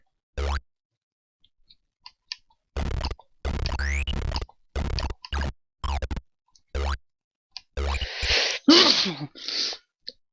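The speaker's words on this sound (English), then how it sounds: "I am very sorry that I keep sneezing" Person sneezing repeatedly while playing the game Crystal Caves, a run of short loud bursts with gaps between, near and mostly alone.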